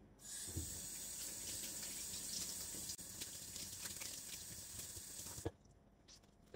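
Tap water runs steadily into a sink while a disposable non-woven mask is rinsed, a constant close hiss and splash that stops abruptly near the end, leaving a few small drips and clicks.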